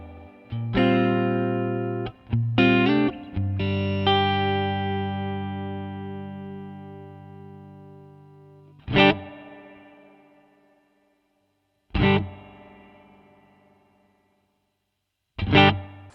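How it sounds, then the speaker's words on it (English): Clean guitar chords through a captured 1965 Fender Pro Reverb amp on a Quad Cortex ring out with a splashy spring reverb tail, followed by three separate strums that each decay slowly into silence. "I don't love the spring reverb in this"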